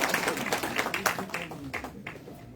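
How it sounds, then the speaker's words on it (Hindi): Audience applause at a Hindi poetry gathering (kavi goshti) organised by J&K BJP for Atal Bihari Vajpayee's birth anniversary: a steady patter of many hands clapping, with scattered sharp claps, fairly close, tapering off toward the end. "सुनील जी के लिए जोरदार तालियों से स्वागत।"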